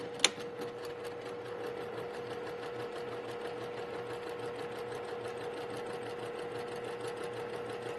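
A sewing machine stitches a straight line on quilt fabric for a crazy cat star quilt, a fast even mechanical whir with steady ticking rhythm running unbroken after one sharp click at the start.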